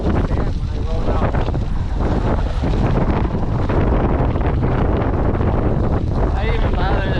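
Strong, steady wind roars and buffets across a microphone on the Great Western bike trail, a continuous close rumble, with people talking underneath.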